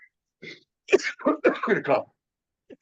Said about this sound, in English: enough of that coughing stuff